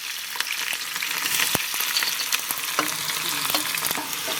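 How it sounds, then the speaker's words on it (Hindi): Onions sizzle and crackle steadily in hot mustard oil in a frying pan, a dense close hiss broken by occasional sharp pops and stirring clicks, with no voices. "इसमें हम फ्राई कर लेंगे प्याज।"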